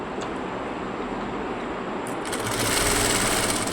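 A sewing machine stitches the neck of a blouse, running a fast steady mechanical chatter close by that grows slightly louder partway through, with no talk.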